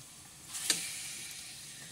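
Chicken fillet frying with garlic in a pan gives a soft, steady sizzle with a brief louder crackle burst as something is added, then settling back to an even hiss.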